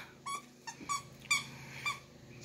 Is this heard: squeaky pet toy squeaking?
yes